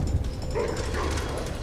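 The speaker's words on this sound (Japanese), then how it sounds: "あれは犬だな。" A dog in Resident Evil 2 barks and yips over a dense, noisy game soundscape, moderately loud and fairly close, sustained through the moment.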